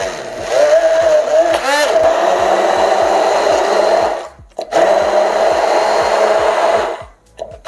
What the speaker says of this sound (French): Et là, je vais mixer à nouveau pour bien l'incorporer avec le foie.